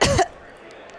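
A person imitating the cough of a wounded deer: a single short, breathy vocal cough, close and fairly loud, followed by quiet room tone.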